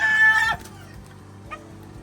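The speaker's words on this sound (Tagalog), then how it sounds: "Manok." A chicken lets out a loud, close squawk in the first half second, then quieter scattered clucks follow over low steady background noise.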